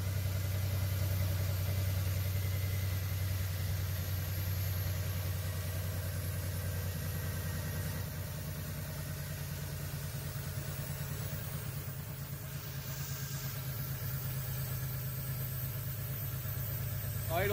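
A Toyota 4Runner engine idles on fuel vapor with a misfire, a steady low rumble holding close and fairly loud for the whole stretch, with a faint hiss riding above it.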